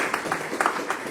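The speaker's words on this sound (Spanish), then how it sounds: "Un aplauso para ella." An audience claps for a visiting guest speaker at a book and thesis discussion, giving a short, moderately loud patter of scattered hand claps.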